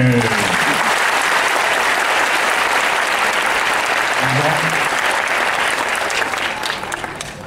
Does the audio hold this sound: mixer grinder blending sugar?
no